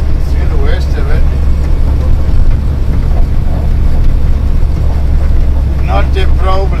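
A heavy MAN or VW truck engine labors under load at about 1500 rpm and 40 km/h with the throttle floored, giving a steady low drone with wind buffeting, while people talk over it.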